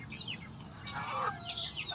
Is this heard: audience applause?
no